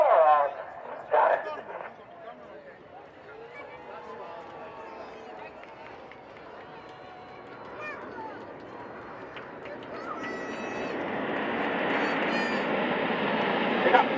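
Red Arrows jets performing a flying display at the 2025 Blackpool airshow, their roar building from faint to loud and sustained, heard under an announcer's running commentary and crowd noise.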